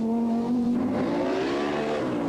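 A Group B rally car's engine revs hard and climbs in pitch on a rally stage, loud and close, pulling steadily as it accelerates with no break over a couple of seconds.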